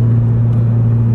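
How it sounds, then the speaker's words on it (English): BMW M3 E46 with a custom exhaust, a deep steady engine drone at close range, loud and unbroken for about a second with no voices. "If this car had an M Sport exhaust, I think this is what it would sound like."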